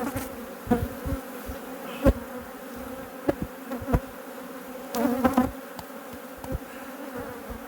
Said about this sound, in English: you just shake all the bees off. If necessary, out of all 4 supers